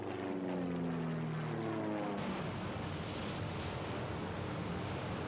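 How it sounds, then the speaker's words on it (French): Propeller aircraft taking off from the carriers Hornet and Enterprise, a loud droning engine roar whose pitch slides as the planes pass, settling into a steady rushing noise with no talk. "Spruance fit décoller les avions du Hornet et de l'Enterprise."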